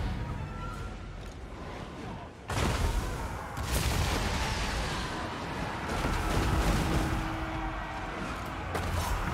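Cannon salvo batteries firing in Total War: Warhammer II, the Skaven faction's guns in a battle, producing heavy layered booms that build into a dense, continuous roar of explosions and battlefield rumble, with a few sharper blasts standing out.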